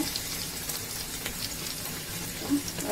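Cheese omelette flipped in a pan and frying over a low gas flame, a soft continuous sizzle with faint crackles and a small clink near the end, close and steady, with no talking.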